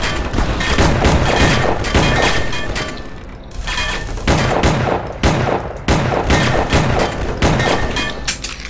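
Gunfire in the video game E.Y.E Divine Cybermancy rattles in loud, dense bursts of rapid shots, with brief pauses and crashing impacts throughout.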